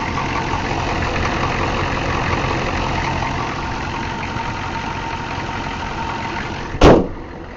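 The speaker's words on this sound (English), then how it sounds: "See it's running. See there's no blow by whatsoever. Not missing at all, sitting here running real good." A 1993 Chevrolet truck's turbo diesel engine idles steadily and smoothly, a continuous near rumble with no misses, ending with a brief sharp bang or knock just before the close.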